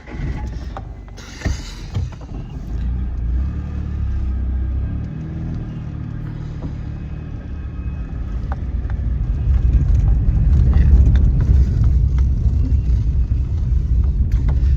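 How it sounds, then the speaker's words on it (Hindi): A car driven in through an opened home gate and parked, heard as a steady close engine rumble and mechanical drone that swells louder toward the end, with no talking. "अब मैं जा रहा हूँ अंदर वो गाड़ी खड़ी करने"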